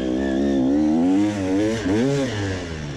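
An enduro motorcycle at an MSC Klein-Krotzenburg race rounds the final corner, its engine loud and close, revving with a rising and falling pitch as the rider shifts through the turn.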